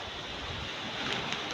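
Waves washing onto a sea shore, a steady broadband wash with soft surges and some wind rumble, continuous and fairly close, with no talk.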